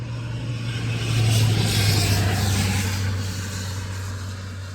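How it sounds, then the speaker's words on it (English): Two cars racing past on a road, a steady broad roar with a low engine hum that swells through the middle and eases off toward the end, fairly loud and close, with no voices. "there's two cars. They're kind of racing"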